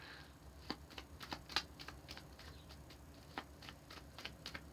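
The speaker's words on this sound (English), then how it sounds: "One more shuffle." A deck of tarot cards is shuffled by hand in soft, quick riffling bursts with scattered sharp card taps, close and quiet in a still room.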